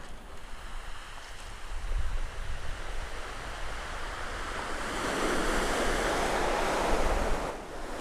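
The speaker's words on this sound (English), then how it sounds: "It is extremely windy" Strong wind buffeting the microphone at the Seven Sisters chalk cliffs near Birling Gap, mixed with the broad rush of waves and surf, loud and continuous and swelling toward the end.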